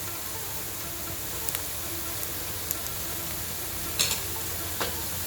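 Garlic powder and black pepper powder sizzle in a pan while being stirred, a soft continuous frying hiss with occasional light clicks and a couple of louder scrapes near the end.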